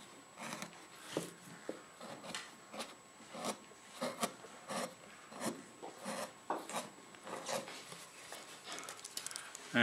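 A wood gouge scrapes and rasps in short repeated strokes while the curved top of a carved wooden pitcher is shaped, steady and close, with no talk over it.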